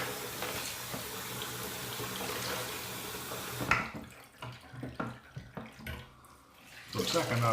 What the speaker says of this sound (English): Run some fresh water because apparently my stopper is leaking.